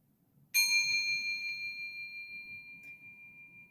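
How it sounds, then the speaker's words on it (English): A single meditation bell struck once, ringing out with a bright sustained tone that slowly fades and pulses over several seconds, close and clear over a quiet background. "So I'm going to start with a bell."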